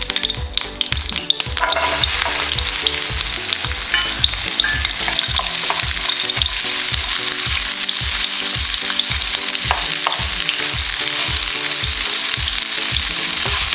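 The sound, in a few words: okra (bhindi) frying and being stirred in a pan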